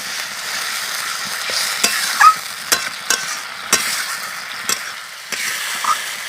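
Spice paste, with salt added, is stirred and fried in oil for a Bengali vegetarian green bean and mung dal dish, giving a soft, steady sizzle punctuated by irregular scrapes and knocks of a spoon against the pan.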